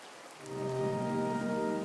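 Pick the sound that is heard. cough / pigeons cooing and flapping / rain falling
rain falling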